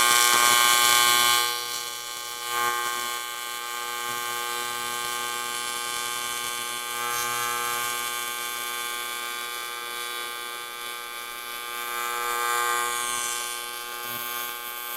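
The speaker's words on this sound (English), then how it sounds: "that was just a cleaning pass, just running with no filler, letting it eat and etch out next to the weld right there" AC TIG welder making a no-filler cleaning pass along a weld on a cast aluminum wheel, giving a steady, loud electric buzz with a harsh hiss that wavers slightly in intensity throughout, heard alone without voices.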